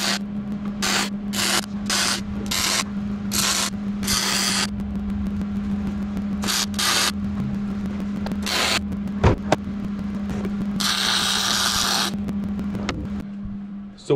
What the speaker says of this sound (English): let me get to tacking this up and welding it